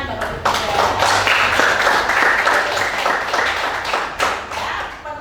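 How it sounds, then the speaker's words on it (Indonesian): A classroom group claps together in a sustained burst of close, dense applause for a student's answer, with scattered sharp individual claps rising and fading over several seconds. "Tepuk tangan Bapak Widya."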